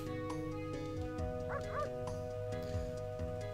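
Short video-game dog yips and bow-wows from Breath of Fire III sound a few times over a steady synthesized music loop, with no talking.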